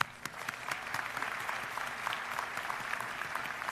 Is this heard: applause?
yes